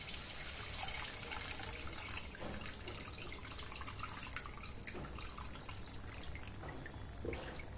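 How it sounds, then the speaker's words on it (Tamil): Tamarind water pours into a simmering lentil dumpling curry, a soft continuous splashing trickle at first, followed by quieter bubbling and faint drips from the pot. "இப்போ நம்ம கரைச்சி வச்சுருக்கிற புளி தண்ணியை சேர்த்துக்கலாம்."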